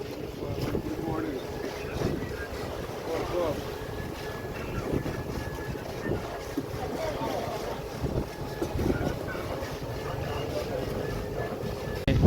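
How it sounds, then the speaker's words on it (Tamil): Strong wind at sea batters a fishing boat, a steady, loud, broadband roar with gusty swells and no break across the whole stretch. "காற்று பரபரன்னு தான் வருது"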